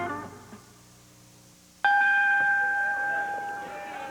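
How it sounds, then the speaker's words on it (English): A single loud bell rings out to open a televised Championship Wrestling show in Memphis in 1988, a sharp strike with a long sustained ringing tone that follows a faint musical tail. "That bell indicates we're ready for action out here."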